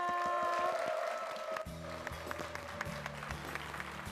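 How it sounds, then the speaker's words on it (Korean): A church congregation bursts into applause partway through, steady clapping continuing to the end over a hum of room noise. "박수 부탁드립니다"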